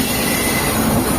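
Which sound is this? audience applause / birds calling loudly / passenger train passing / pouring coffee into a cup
passenger train passing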